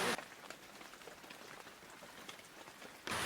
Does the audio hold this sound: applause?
no